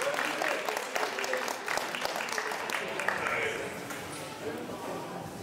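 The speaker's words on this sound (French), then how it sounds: "On peut l'applaudir." Audience applause at the 2022 AFEBAS billiards Grand Prix final in Morigny-Champigny, France, a sustained crackle of many hands clapping at moderate distance, steady for several seconds.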